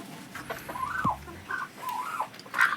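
Black karinkozhi chickens on a mixed farm give soft, scattered clucks and short squawks at close range against a quiet background.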